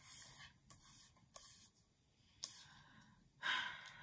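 Faint pen-on-paper scratching in short, intermittent strokes, with quiet pauses and a slightly louder burst of writing near the end.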